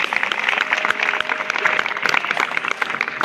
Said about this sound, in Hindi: शाबाश, तालियां बजाओ।